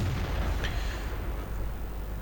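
A tank cannon fires in World of Tanks while an Indien Panzer German tier VIII medium tank is driven, giving a deep booming blast with a rumbling tail over a low, steady engine drone.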